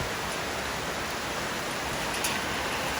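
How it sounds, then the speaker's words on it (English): Heavy rain pours in rural Bangladesh as an unbroken, dense broadband hiss, loud and close, with no voices or other sounds above it. "It's heavy rain, almost heavy."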